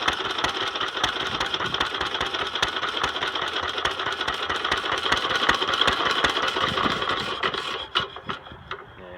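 A 1927 Detroit Moto Mower's Briggs & Stratton PB engine runs rich at idle with a loud, busy, rattling putter close by, then stutters and drops away near the end as it starts to die.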